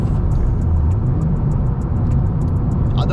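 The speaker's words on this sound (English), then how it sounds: "I am going to downshift from 5th to 4th" A manual car downshifting from fifth to fourth gear at road speed gives a loud, steady low engine rumble with a slight rise in pitch, with no talking over it.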